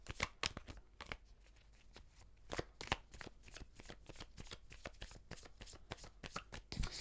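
Tarot cards shuffled close by in quick, crisp riffles and taps, soft and continuous with no talk.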